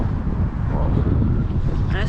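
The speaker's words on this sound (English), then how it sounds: "it's super windy outside right now" Strong wind outdoors in Dallas, Texas roars and buffets the microphone in a steady, loud low rumble that barely lets up.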